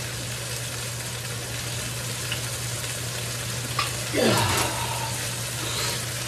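Chicken thighs and artichokes fry in a pan with a steady, close sizzle and crackle throughout, with a brief scrape and swish as the pan is turned partway through.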